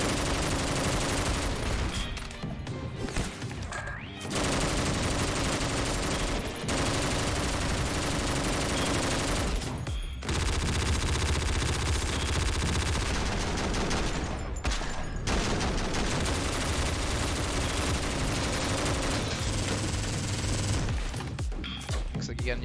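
In the Hotline Miami–style roguelike OTXO, a boss's sword swings unleash bullets, producing dense, continuous rapid gunfire and clashing combat noise with brief gaps, loud throughout, while a person talks over it.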